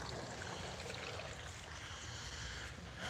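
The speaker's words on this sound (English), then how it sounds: "Oh, I love the water sound. Little fountain inside there." Steady trickling water from a small fountain, continuous and soft, with no voices or other sounds over it.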